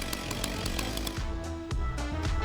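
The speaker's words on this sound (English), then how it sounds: "using this chainsaw." A chainsaw cutting wood from an invasive tree runs loud and close, its engine revving and bogging in uneven bursts.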